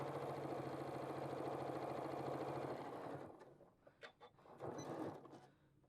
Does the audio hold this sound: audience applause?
no